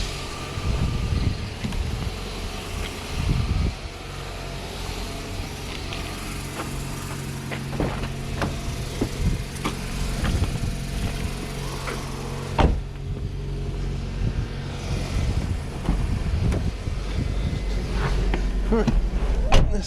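A salvage car's engine, started without its battery, catches and settles into a running idle, a steady low rumble with occasional clunks and knocks nearby, heard outdoors with some wind.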